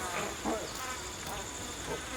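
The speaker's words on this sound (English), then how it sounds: "You can hear the sound of the bees buzzing around" Bees buzz around a beehive in the video game Ancestors: The Humankind Odyssey, a steady close insect drone with a few louder passes.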